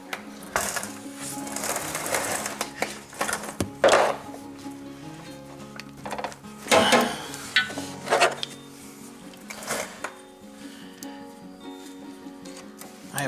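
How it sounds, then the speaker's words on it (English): Ratcheting and clicking from a socket wrench loosening 15 mm bolts on the starter of a 1999-2004 Jeep Grand Cherokee, with irregular metallic bursts and clatter, close and moderately loud, and no talking. "let me get my 15 socket out and take those loose"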